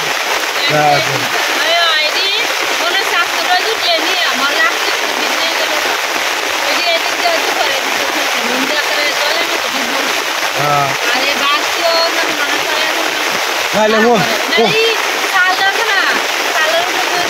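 Heavy rain pours down steadily and loudly at a village house, a dense continuous wash of falling water with splashes, while voices speak intermittently over it.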